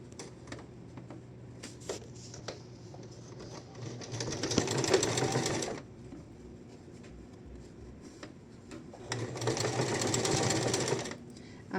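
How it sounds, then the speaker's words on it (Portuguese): A sewing machine topstitches a folded bias fabric strip for a placket, running in two loud sustained bursts with a quieter pause between, nearby and alone. "Agora, eu vou costurar ele, pespontar ele na dobrinha."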